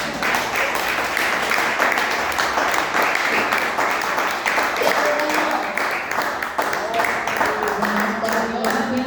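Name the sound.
church congregation clapping in praise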